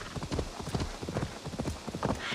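A horse sprints at a gallop in the video game Assassin's Creed Valhalla. Rapid, rhythmic hoofbeats drum steadily and close throughout, with no talking.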